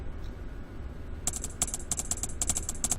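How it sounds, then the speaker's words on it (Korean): A soft typewriter subtitle sound effect from the VapMix2 video editor plays as a rapid, irregular run of light clicking keystrokes, crisp and close, over low background hum. "이 중에 하나 제가 부드러운 타자기를 누르면 한번 해볼까요?"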